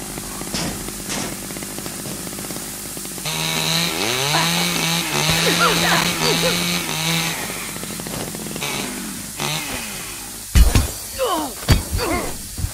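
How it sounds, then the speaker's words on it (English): A chainsaw in the video game The Culling revs with a buzzing, wavering drone for several seconds, then sharp thuds and crashes follow, all with a game-like sound. "He's coming with a chainsaw."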